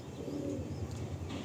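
Kalsira pigeons coo softly and steadily at close range in a loft, low murmuring calls rolling on through the moment with a few faint chirps above them.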